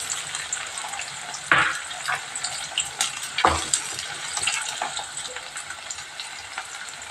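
Ginger garlic paste frying in a pan for chicken biryani gives a soft, continuous sizzle, broken by a few louder stirring scrapes and clinks.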